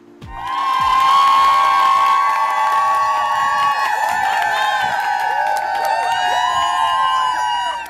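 A crowd of about 400 Céline Dion fans outside the TVA studios cheers and screams loudly, high shrieks and whoops sustained for several seconds with some clapping mixed in.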